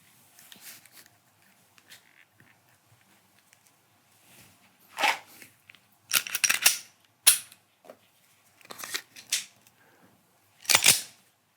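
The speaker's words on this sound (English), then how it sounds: "time to fire a few shots. We'll start off with 124 grain reloads and shoot five shots for accuracy." A Glock 48 pistol firing 124-grain reloads: several sharp, separate cracks spaced irregularly over quiet background, each short and fairly loud at close range.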